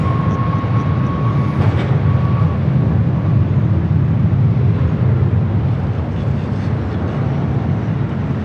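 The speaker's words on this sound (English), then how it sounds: "Flight 38 coming in from Tokyo Haneda." A heavy airliner on arrival at Los Angeles International Airport, inbound from Tokyo Haneda, gives a steady, loud broadband jet roar with a deep rumble that holds throughout, slowly shifting as it passes.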